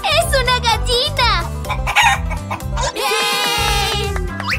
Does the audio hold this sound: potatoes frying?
no